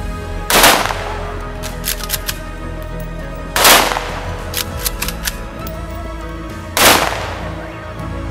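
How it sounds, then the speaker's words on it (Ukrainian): Three loud volleys of a military gun salute ring out at a soldiers' funeral in Kryvyi Rih, evenly spaced about three seconds apart, each crack followed by fainter echoing reports. "На честь тих, хто віддав своє життя за нашу свободу, за традицію пролунав військовий салют."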